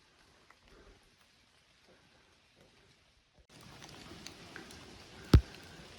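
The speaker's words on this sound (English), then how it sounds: "It's raining just enough today that the views aren't that great" Light rain falls on a mountain trail, soft patter that grows steadier and louder partway through, with a single sharp tap near the end.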